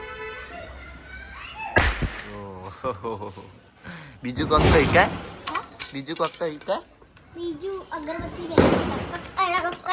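Diwali firecrackers, including teta, pistol caps and bombs, are thrown onto the ground and burst with a few sharp, loud cracks spread through the clip, while people talk continuously nearby.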